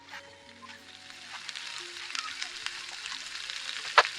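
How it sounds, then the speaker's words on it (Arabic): Tacos frying in a pan at home: a steady, soft sizzle with crackling pops, close and moderately quiet, ending with one sharper crackle. "الطاكوس ديالي ها هو وجد، خصني غير نديرو يبقى يطيب"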